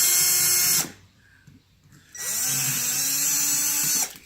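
A power drill bores out bolt holes while fitting new fog lights on a Class A motorhome: two loud, whining bursts of drilling, close up, split by a short quiet pause.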